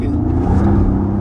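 A Mercedes SL65 accelerating hard with wheel spin, its engine a loud, close, continuous low roar throughout the brief moment.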